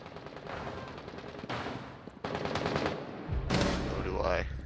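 Bursts of gunfire in an online shooter game, coming from somewhere unseen, with rapid automatic shots at moderate distance that rise in loudness toward the end and a heavier burst near the close.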